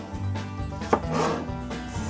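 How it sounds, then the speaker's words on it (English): A knife chops vegetables coarsely on a board in an RV kitchen, giving soft dull cuts and rubbing strokes at close range over a steady background hum. "Chopping these up coarsely"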